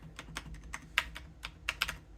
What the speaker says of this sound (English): this is meant to be a silent keyboard, but the question is it really silent? I mean, you do hear some noise